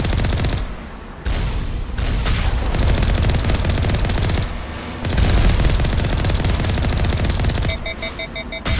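Vehicle turrets in Mass Effect fire in sustained heavy bursts of gunfire, loud and dense with short gaps, ending in a few sharp electronic beeps.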